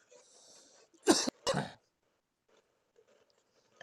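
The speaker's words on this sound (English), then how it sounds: "should I have muted on my cough?" Two quick, harsh coughs in close succession come from a person on a casual chat stream, close to the mic, with near silence before and after.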